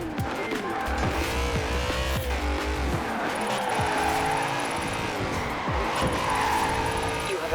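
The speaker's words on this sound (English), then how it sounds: "Hook it in, flick the back end out, ride the handbrake all the way through the flags." Car drifting with the handbrake through flag markers in Forza Horizon 4, engine revving hard and rising and falling as tires squeal and skid continuously throughout, loud and close.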